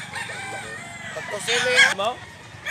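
A Boston Japon rooster crows once loudly and close by, its call rising and then breaking off, with people talking around it.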